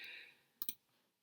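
Two sharp mouse clicks in quick succession on a computer, close and distinct, following a fading high tone, with no speech.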